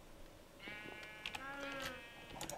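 Sheep bleat in a farming video game, a few wavering, tonal cries with some soft clicks and game noises around them, close and moderately loud.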